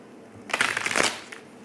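Tarot cards being shuffled, one brief riffle of papery flutter lasting under a second, close and fairly soft, followed by quiet.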